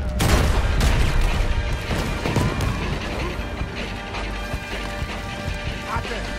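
Chaotic Red Dead Redemption 2 battle noise with rapid mechanical clatter and bursts of gunfire, dense and loud throughout, with voices mixed in.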